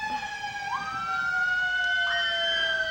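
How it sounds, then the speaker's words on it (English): Fire truck sirens wail continuously at a Memorial Day parade in Attleboro, a steady high tone that sweeps upward partway through, loud and sustained with crowd murmur beneath. "Can't hear anything over those sirens."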